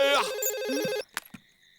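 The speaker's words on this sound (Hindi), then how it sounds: "ਕਿਸੇ ਦਾ ਫੋਨ ਆਇਆ है" An electronic phone ringtone warbles loudly for about a second in a repeating trill, then cuts off, followed by a couple of brief clicks or knocks as the call is picked up.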